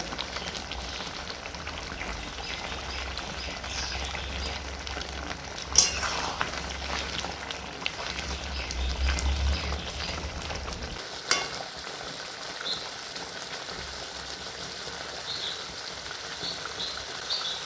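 Chicken and onions cook in a pan for chicken do pyaza, giving a continuous close sizzle like steady rain, with a couple of sharp utensil clicks and a dip in the low rumble partway through.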